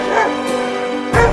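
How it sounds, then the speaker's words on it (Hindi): Dog barking and yipping in short bursts, near and fairly loud, with two sharp cries standing out from a steady background. "अरे ये कुत्ता तो यहाँ तक पहुँच गया।"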